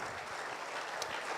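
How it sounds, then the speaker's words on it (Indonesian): Church congregation applause for God continues as a soft, even patter of many hands clapping, fairly faint and unbroken. "Tepuk tangan yang lebih baik bagi Allah kita."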